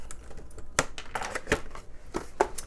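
Scissors cutting open a sealed plastic bag of Lactina breast pump parts, a few quiet crisp snips and crinkles spaced apart, close by.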